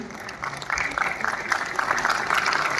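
Applause from an audience at a dance school's annual function closing ceremony, steady clapping that swells after a brief quieter start and continues throughout, with a voice talking over it.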